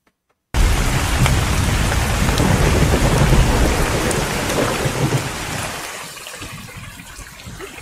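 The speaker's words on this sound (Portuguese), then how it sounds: "Se estivesse uma grande tempestade de chuva" Heavy rain pours down steadily during a thunderstorm, with a dense roar of downpour and rumbling thunder that begins abruptly and eases slightly toward the end.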